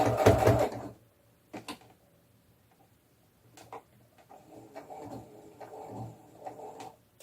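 A domestic sewing machine stitches doll pajamas in short bursts: a loud whirring run at the start, then scattered brief stitching passes and clicks separated by quiet gaps.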